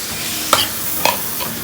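Beef and pickled bamboo shoots are tossed in a hot pan over a faint steady sizzle, with a few sharp scrapes of the spatula at irregular intervals.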